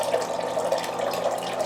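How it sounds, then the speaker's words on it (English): An electric pump dispensing water from a 5-gallon jug, a steady close stream of water splashing and gurgling into a container without pause, with a faint pump hum beneath. "Single push and it turns the water on"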